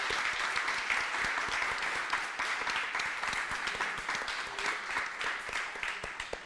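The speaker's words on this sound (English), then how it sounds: "Let's give a round of applause to all our speakers." A conference audience applauds continuously, many hands clapping at a steady, moderate level for several seconds.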